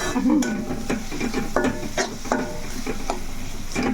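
A spoon scrapes and stirs fish masala curry as it sizzles and fries in a pan, with steady clinks against the metal and a low hiss underneath.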